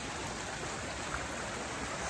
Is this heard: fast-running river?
yes